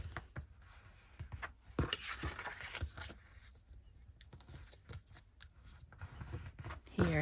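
Scissors snipping paper for a winter botanical lapbook craft, an irregular series of close crisp cuts and paper rustles, some quick and clustered, others spaced out, with no talk.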